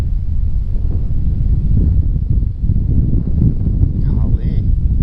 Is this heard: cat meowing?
no